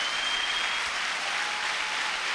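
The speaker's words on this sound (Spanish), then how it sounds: "dáselo fuerte al Señor ese aplauso" Church worshippers clap loudly for the Lord, a thick, continuous burst of applause filling the room for a couple of seconds with no voices on top.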